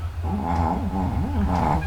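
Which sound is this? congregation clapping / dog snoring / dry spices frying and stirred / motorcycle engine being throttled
dog snoring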